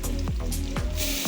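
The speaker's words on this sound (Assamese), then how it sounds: "এখিনি অলপমান ভাজি লম" Bhut jolokia chillies and panch phoron fry in oil with a loud, close, crackling sizzle. Sharp pops and spatters break through at intervals under a steady hum.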